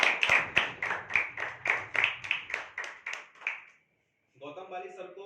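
Slow, evenly spaced claps ring out one after another, about a dozen sharp beats in a steady rhythm for a company owner at a business presentation, then stop and give way to a voice.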